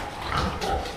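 A large sow grunts in a farrowing pen, giving a short pair of low, close grunts with a slightly wet, snorting texture and no speech over them.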